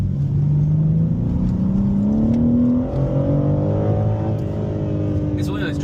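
A 2027 BMW M3 on a test track pulls away with a loud, close engine note that climbs in pitch as it accelerates, one gear change dropping the tone mid-run, while a person talks over it.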